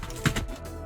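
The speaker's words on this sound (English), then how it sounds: "grab the clicky keyboard" Fingers strike a few keys on a clicky computer keyboard in a short, quiet burst of close clacks.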